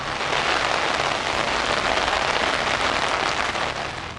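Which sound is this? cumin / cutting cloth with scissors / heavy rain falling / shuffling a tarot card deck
heavy rain falling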